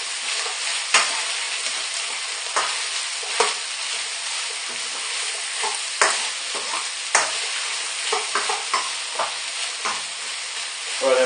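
Onions stir-fried in a hot pan for Chinese chicken curry: a continuous bright sizzle with repeated scraping and clattering strokes of a utensil, close and loud, no talk.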